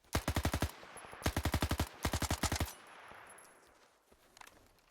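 Spitter gun from S.T.A.L.K.E.R. 2 firing three rapid automatic bursts, each about half a second of sharp, evenly spaced shots, loud and close, followed by a fading tail and faint ambient noise.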